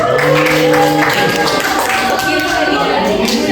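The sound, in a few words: applause for the presenting group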